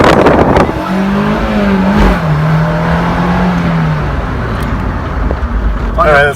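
Several sports cars driving past in a line, a steady engine drone with a falling pitch as they go by, fairly loud, with voices talking over it.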